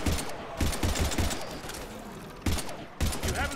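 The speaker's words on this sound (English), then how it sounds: "we're taking heavy fire" Heavy gunfire in the sci-fi shooter game Mass Effect 3 during a fight against husks, with loud bursts of shots spread across the whole stretch and brief lulls between volleys.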